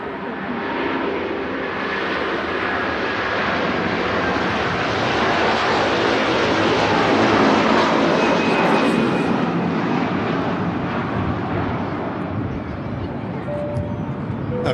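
Virgin Airbus A330 jet rolling for takeoff at Manchester Airport, a loud sustained engine roar building and holding across the whole stretch, heard from nearby outdoors.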